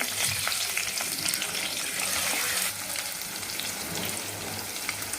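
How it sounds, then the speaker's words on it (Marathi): Small paneer pieces shallow-frying in oil for palak paneer give a loud, continuous, close sizzle that eases slightly partway through, with no talking. "पनीरचे असे छोटे छोटे तुकडे करून घेतलेले तेलामध्ये छान जरा फ्राय करून घ्यायचं"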